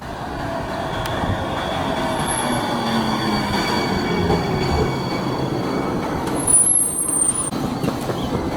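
A Blue Line light rail train passes a station at Lincoln Harbor, a loud, steady rumble of wheels on track with high squeals from the rails and a short brake hiss near the end.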